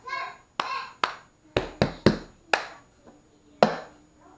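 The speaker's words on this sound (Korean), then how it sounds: "박수 두 번, 테이블 세 번, 박수 한 번, 컵을 잡고 내려놓습니다" Children's cup rhythm game played on a table: two sharp hand claps, three knocking table taps, one more clap, then a cup grabbed and set down, crisp and close with short pauses between strikes.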